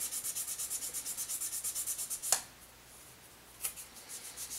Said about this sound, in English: I'm going to go back in there with my file and just polish it until it goes away